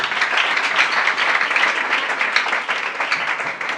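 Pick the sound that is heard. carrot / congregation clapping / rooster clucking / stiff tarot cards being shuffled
congregation clapping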